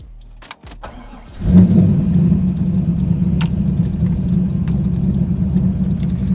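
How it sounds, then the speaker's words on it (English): A car engine cold-starts, cranking briefly and catching with a loud roar, then settles into a steady, rumbling idle close by. "Cold start."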